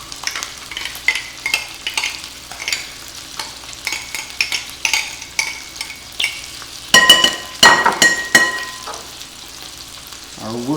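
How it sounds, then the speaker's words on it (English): Ketchup, onions, Worcestershire sauce and Coca-Cola being stirred together in a pan, a steady series of wet scraping strokes with soft sizzle underneath, close and moderately loud, with a brief clatter midway. "we're going to stir that up real good"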